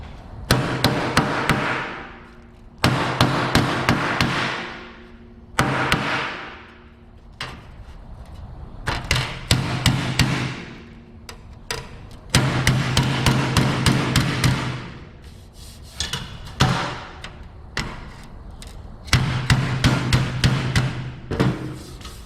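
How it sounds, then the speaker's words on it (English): A body hammer strikes the sheet-metal panel of a 1967 Chevelle in repeated hard, ringing blows, arriving in bursts of several hits with short pauses between them, close and loud with no talking. "Let's get a body hammer."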